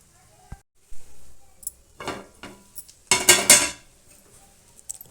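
A spoon scraping and clinking in a pan as prawn fry cooks. Scattered metallic knocks and stirring scrapes come in short bursts, with a louder cluster near the end, close and fairly quiet between strokes.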